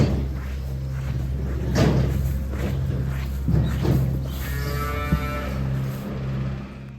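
Dairy cows on a Welsh farm lowing in a winter shed, several drawn-out moos from close and mid distance over a steady mechanical hum, with a clank or two of gates between calls.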